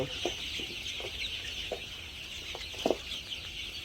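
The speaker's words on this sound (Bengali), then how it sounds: "তো আমাদের মুরগিগুলো যদি আপনাদেরকে দেখাই, হ্যাঁ এই দেখেন" Fifteen-day-old chickens cluck in short, scattered bursts over a constant high hiss of background noise, several birds nearby.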